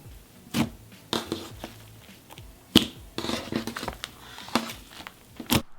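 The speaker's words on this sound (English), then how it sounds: "And continue to mix that into your slime." Thick clay slime being mixed with iridescent purple glitter and purple foam beads, giving irregular squishy crinkling and crackling bursts with short pauses between handfuls, close and fairly loud, no talk.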